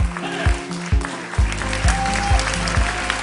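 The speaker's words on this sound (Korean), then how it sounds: "예상치 못한 코미디적 모습에 웃음과 박수가 터져 나오네요." An audience at a taekwondo stage performance at the Shalom Yerushalayim cultural festival breaks into steady applause, a dense continuous clapping with a few louder claps and rising cheers running through it.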